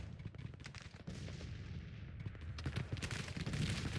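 Artillery cannons firing in the Civil War strategy game Grand Tactician: The Civil War, a dense string of distant booms and rattling gunfire rolling on steadily over a battlefield, with no talking.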